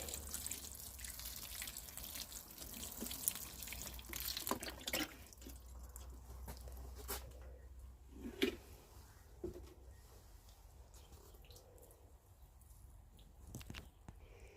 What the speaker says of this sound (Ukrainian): Ну і зверху роблю ось так, заливаю. Поливаю.